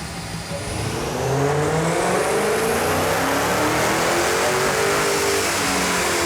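A high-horsepower Dodge engine revs hard and loud, rising from a rumble into sustained roaring acceleration that holds steady and close for several seconds, with no talking.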